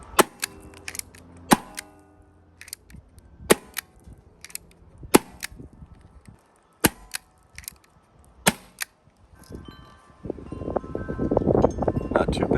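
A Bug-A-Salt salt gun fires a string of sharp, separate snapping cracks spaced a second or so apart, close and loud, ending in a rougher burst of handling noise.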